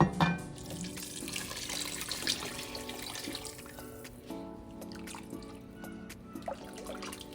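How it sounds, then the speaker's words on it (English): Hot water pours from a kitchen tap into a pot of chicken tortilla soup, a continuous close splashing stream with small trickling and dripping variations throughout, fairly quiet and without speech. "And then we're gonna add 4 cups of hot water."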